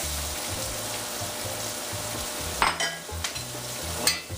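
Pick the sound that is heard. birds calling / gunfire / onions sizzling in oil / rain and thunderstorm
onions sizzling in oil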